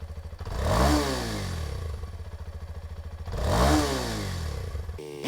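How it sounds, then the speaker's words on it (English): A lowered Kawasaki KLX 230 motorcycle with a Rekluse auto clutch is revved in neutral, two clear rising and falling revs audible over a rapid, pulsing single-cylinder idle, close and loud. "That was 10 rev cycles in neutral."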